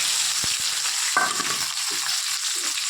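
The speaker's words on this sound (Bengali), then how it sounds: "কড়াইয়ের মধ্যে তেজপাতা, শুকনো লঙ্কা ফোড়ন দিয়ে দিয়েছি, আর কেটে রাখা কুচনো পেঁয়াজ আর টমেটো দিয়ে দিলাম" Bay leaf, dry chilli, chopped onion and tomato fry in a kadai: a dense, bright sizzle opens with a few quick stirring knocks, then continues steadily and closely with no talking.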